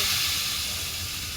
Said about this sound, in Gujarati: આ દાળનો વઘાર થઈ રહ્યો છે